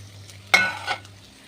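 Chilli and other spice powders get stirred into onions frying in a pan: one short, sharp scrape and sizzle that quickly fades, over a low steady hum, with no voices.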